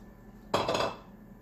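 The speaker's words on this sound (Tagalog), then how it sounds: "medyo kumukulo-kulo na ngayon ang ating sabaw pagkalagay ko ng carrots" Carrots drop into a pot of simmering chicken broth for chicken lomi, making a short, loud clatter against the pot, followed by a brief quieter rattle and then near silence.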